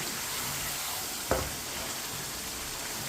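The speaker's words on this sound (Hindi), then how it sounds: "5 मिनट के लिए इसी तरह चम्मच चलाते हुए भूनना है गोश्त को।" Beef karahi meat frying in a pan as it is stirred with a spoon, a steady close sizzle with one brief scrape or knock partway through, no voices.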